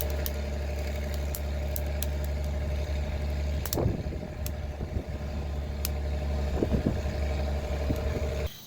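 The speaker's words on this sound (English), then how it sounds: "I apologize for the tractor noise in the background." A tractor engine drones steadily in the background, a low continuous rumble from outside while coffee beans are roasted at home, with a few faint knocks and clatters on top.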